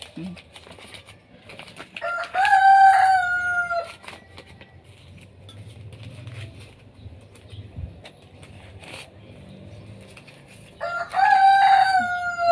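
A rooster crows loudly nearby twice, once early and again near the end, with clucking and faint background noise in between.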